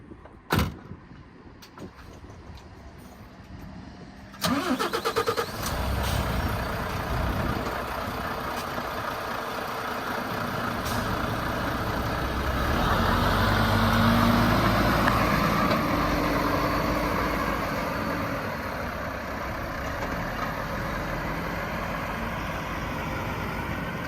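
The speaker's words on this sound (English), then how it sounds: "He's going to drive forward and line up the unit with the trailer and stop about a metre away" An HGV truck tractor unit drives forward to line up with its trailer: a click and a door sound, then the diesel engine starts and settles into a loud, steady rumble that swells briefly as it moves and stays constant to the end.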